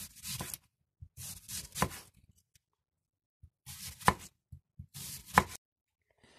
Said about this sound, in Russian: Нарезать можно кольцами или полукольцами. Я нарежу кольцами и не очень тонко.